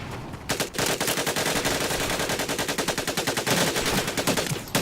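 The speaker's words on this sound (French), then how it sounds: "Des balles qui atterrissent là." Rapid automatic gunfire from a machine gun in the Medal of Honor video game, a loud, sustained rattle of closely spaced shots that starts after a brief pause and keeps hammering with little break.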